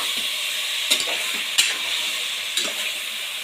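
About a kilogram of country chicken is stirred in a pressure cooker over a medium flame for a spicy sambar: a steady, loud sizzle broken by a few sharp spoon scrapes against the metal.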